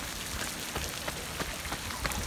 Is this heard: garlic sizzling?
no